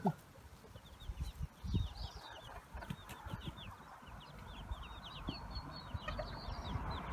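Chickens cluck and small chicks peep softly and repeatedly amid a low, muffled background of shuffling and faint thuds, fairly quiet and close by.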